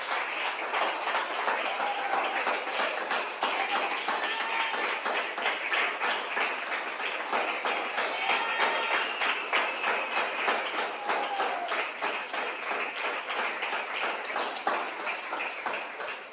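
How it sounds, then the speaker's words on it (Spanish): A church congregation claps in a steady rhythmic beat, many hands together at a constant moderate loudness, with faint voices under the clapping. "Denle un aplauso a Cristo"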